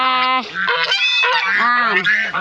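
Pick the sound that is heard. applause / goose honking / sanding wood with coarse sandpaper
goose honking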